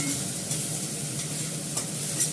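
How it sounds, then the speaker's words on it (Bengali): Onion, garlic and ginger paste fries in hot oil, which was already used for frying fish, giving a steady close sizzle with faint stirring scrapes and no voices. "এবার পেঁয়াজটা দিয়ে দিয়েছি তেলে।"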